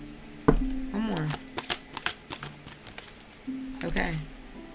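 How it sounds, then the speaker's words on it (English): Quick riffle and flutter of a deck of cards being shuffled, a few brisk bursts close by, with a person talking over and around them. "let me shuffle one time"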